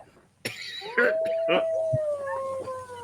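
A coyote-like howl in a classroom: one long, rising-then-sustained wavering howl carrying over several seconds, fairly close, with scattered short noises around it.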